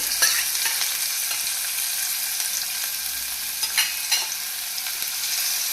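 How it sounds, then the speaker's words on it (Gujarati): Chopped onion with asafoetida sautéing in oil for vegetable rice, a bright continuous sizzle with occasional scraping stirs, close and steady with no talk. "ડુંગળી આપણે ગુલાબી થાય ત્યાં સુધી સાંતળી લેવાની રહેશે"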